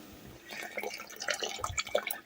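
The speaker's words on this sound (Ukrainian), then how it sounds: "Вливаємо, залишившийся оцет." Vinegar is poured into a cabbage marinade of water and vinegar, a close, uneven splashing and dribbling trickle that swells toward the end, with no speech over it.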